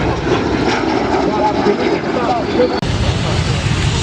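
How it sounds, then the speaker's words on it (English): An L-39 jet aircraft comes in to land at the Oshkosh airshow, its loud, steady engine roar filling the air along with crowd and wind noise, while people talk underneath. "L-39's coming in for a landing."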